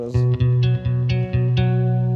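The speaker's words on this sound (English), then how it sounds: "It's a room reverb but like not a whole lot of tail on it" A plucked Fender Acoustasonic guitar plays a short chord phrase, each strum ringing briefly in a small room with a short, subtle room-reverb tail.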